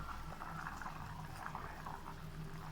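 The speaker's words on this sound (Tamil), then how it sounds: "10 நிமிஷம் கொதிக்க விடுங்க." Chicken kuzhambu curry bubbling steadily in a pot, a continuous close simmering hiss with soft popping bubbles and no voices.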